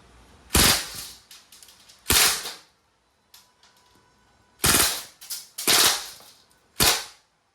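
A Crosman A4-P CO2 airgun pistol fires 4.5mm steel BBs in sharp, loud cracks, single shots then quick rapid-fire bursts, with small mechanical clicks between them and no talking.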